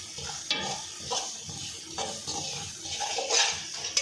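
Semolina halwa being stirred and roasted in a pan on the stove, with steady sizzling and repeated scraping strokes of a spoon against the metal, close and continuous with no talk.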